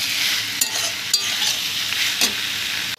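Taro stolons (loti) with onion sizzle loudly as they are stir-fried in a pan, a constant close frying hiss broken by a few brief spatula scrapes and stirs.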